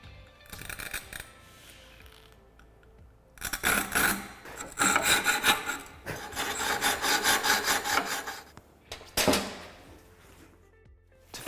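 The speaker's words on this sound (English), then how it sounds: "This is a tungsten carbide saw." A tungsten carbide rod saw cutting through ceramic tile, giving bursts of harsh rasping strokes separated by short pauses, close and fairly loud with no talk.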